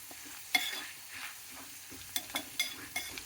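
Rice frying in an upma-style tempering of oil and spices in a pan, with a soft sizzle and repeated scraping stirs that come in quick bursts, close and fairly quiet.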